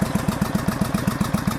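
A 1983 Honda VT750 bobber motorcycle idles nearby with tappy valves, a steady rapid ticking pulse over a low engine burble.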